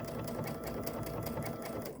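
A sewing machine runs steadily, stitching an appliqué owl pin cushion in a fast, even mechanical rhythm that is loud and close throughout, with no pauses and no talking.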